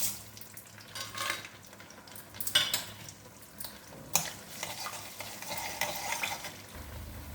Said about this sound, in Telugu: ఇప్పుడైతే నూనె వీటెక్కిందండి పోపు దినుసులు వేసుకుంటున్నాను